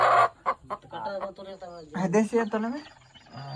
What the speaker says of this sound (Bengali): এখানে অনেক মুরগি আছে, অনেক অনেক।